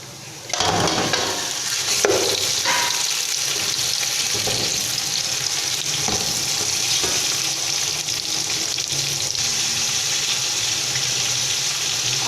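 Garlic and ginger fry in a hot pan while chicken biryani is being cooked, giving a loud, steady sizzle that starts abruptly and continues without a break, with a few stirring scrapes.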